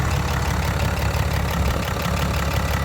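A 2010 Dodge Ram 2500 with a Cummins diesel idles steadily nearby, a loud, continuous low rumble with a faint knocking clatter running through it and no voices.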